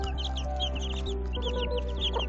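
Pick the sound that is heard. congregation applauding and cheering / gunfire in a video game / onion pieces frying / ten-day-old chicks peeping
ten-day-old chicks peeping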